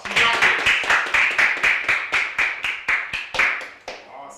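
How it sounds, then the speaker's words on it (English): A group at a youth leadership session claps in unison, about fourteen sharp, evenly spaced claps in a steady rhythm that slows and fades out near the end. "Give her a round of applause."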